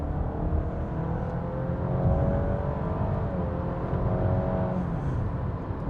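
A Honda ZR-V running with simulated gear shifts gives a steady engine hum whose pitch climbs, drops and climbs again through several steps, heard from inside the cabin, moderately loud and without speech.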